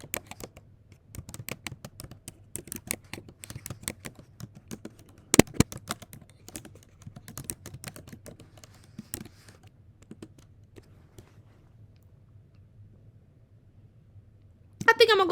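Rapid, irregular clicks of a computer keyboard being typed on while designing in Canva, close and fairly quiet, running in uneven bursts with brief pauses and a low steady hum underneath.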